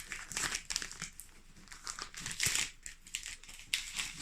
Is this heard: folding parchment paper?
yes